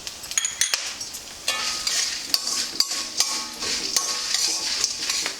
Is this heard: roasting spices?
yes